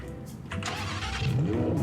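A car engine starting up in a Roblox video game: a burst of cranking catches into a steady running note that climbs in a short rev, close and fairly loud, with no talking.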